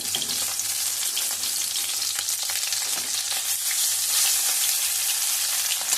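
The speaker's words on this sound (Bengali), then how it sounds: "এটাও সুন্দর করে ভেজে নেব।" Parshe fish sizzles in hot oil, a continuous dense crackle and spatter close by, steady for the whole stretch with no talking.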